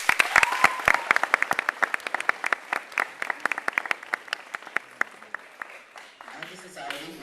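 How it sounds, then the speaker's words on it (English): At a graduation ceremony, an audience breaks into applause, a dense burst of handclaps that thins into scattered individual claps and fades, ending with a voice starting to speak. "So let's give a warm applause to everyone who supported our journey of higher education."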